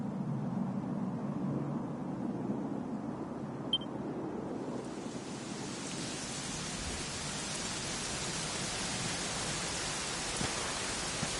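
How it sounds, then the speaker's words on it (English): Steady, dense rain in a Dragon Quest video game hisses continuously, growing brighter and fuller about halfway through, with no voices. "it was raining like this the last time I ever saw her"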